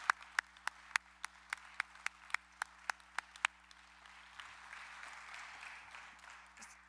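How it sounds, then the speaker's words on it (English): An audience at a Foxconn announcement at UW Parkside claps in a faint, distant hall, with a few crisp, evenly spaced claps before a softer, diffuse wash of applause. "a big round of applause for Allan and this vision"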